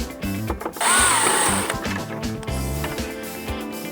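A T25 driver backs out the air deflector screws on a Harley-Davidson Road Glide, giving short rhythmic whirring bursts of a powered screwdriver at close range with small clicks between pulses.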